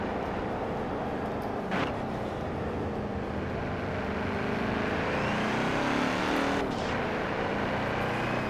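Steady engine drone of a car cruising through countryside and a village in Forza Horizon 4, continuous and moderately loud with gentle pitch shifts as the engine revs rise and fall, a couple of brief bumps along the way.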